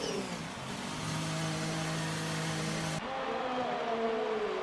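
A Formula 1 race car engine from a league racing game at the Austrian circuit, a loud sustained mid-pitched drone with steady harmonics that abruptly shifts pitch partway as the gear or camera view changes, with no voices.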